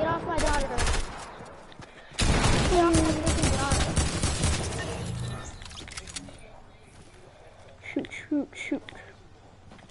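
Rapid bursts of gunfire ring out in the Fortnite video game, loud and clustered early, then thinning to scattered shots. Players talk over and between the bursts.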